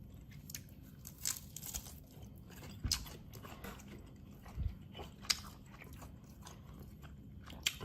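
Crispy air-fried food topped with hot sauce being bitten and chewed up close, a series of sharp crunches and quieter mouth sounds spread unevenly across the stretch, with no talking.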